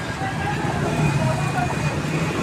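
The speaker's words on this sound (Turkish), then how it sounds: "Yazın çok otur balkonda şöyle araba sesinde" Steady road traffic rumbles in the background as heard from a balcony, cars passing continuously at a moderate distance, with a faint murmur of voices mixed in.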